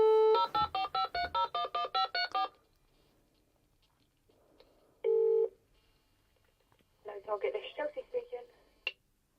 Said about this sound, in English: we've just tested the auto dial now 3 times